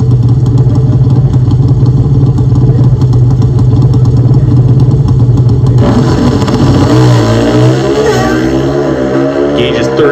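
A Pro Stock drag racing motorcycle engine at staging during the 2024 NHRA Northwest Nationals in Seattle, loud steady high-rev drone that shifts and rises into a harsher roar partway through, heard up close.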